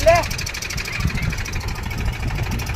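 A 39 hp Mahindra tractor, stuck and pulling with its wheels spinning, rumbles at a steady low throb with a knocking diesel beat, while someone talks over it nearby.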